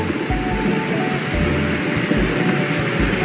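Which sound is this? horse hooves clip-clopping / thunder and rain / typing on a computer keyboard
thunder and rain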